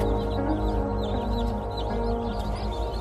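Farm chickens cluck in a steady, close run of short calls over a constant low hum, with no talking.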